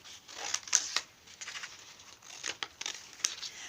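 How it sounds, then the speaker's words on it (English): Scissors snip through paper to cut out a rectangle shape, a run of close, crisp cuts and crinkles with short pauses between strokes, fairly quiet and alone. "I'm going to cut out a rectangle shape."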